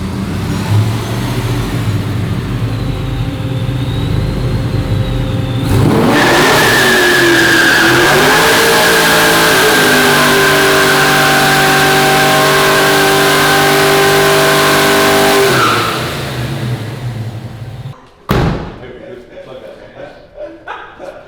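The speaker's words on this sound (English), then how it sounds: "So that burnout I did in here, you put it in second gear, give it some RPM, and you snap off the clutch" A 900 hp classic Chevrolet Chevelle does a burnout: the engine revs up to a loud, sustained high-pitched scream while the tires spin, then it cuts off, leaving a brief skid and rumble near the end.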